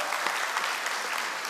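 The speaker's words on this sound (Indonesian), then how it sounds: "Tepuk tangan bagi Allah kita." Brief, lively applause from a church congregation during a worship service, dense and even clapping throughout with no speech.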